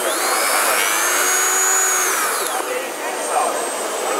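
A Dremel 3000 rotary tool with variable speed runs at a trade show, a continuous high whine whose pitch glides up and then drops, with crowd noise behind it.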